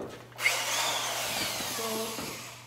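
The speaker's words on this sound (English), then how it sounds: "I'm just going to drill a few small pilot holes." A power drill spins up and whirs steadily while boring small pilot holes in wood for the side wings of a truck camper build, close and fairly loud, running alone without talk.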